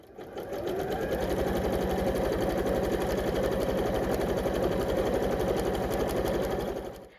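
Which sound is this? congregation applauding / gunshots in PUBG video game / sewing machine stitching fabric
sewing machine stitching fabric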